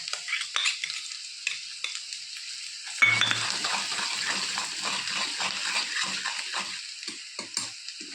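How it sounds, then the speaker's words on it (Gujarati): Ginger-chili paste dropped into hot oil with browned onions bursts into a loud, steady sizzle, with close scraping stirs repeating over the frying. "હવે આદુ મરચાંની પેસ્ટ એડ કરી દેવાની છે."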